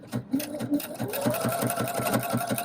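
Sewing machine with a ruffler attachment sewing pleats, a close rapid rhythmic mechanical chugging and clicking that runs steadily throughout.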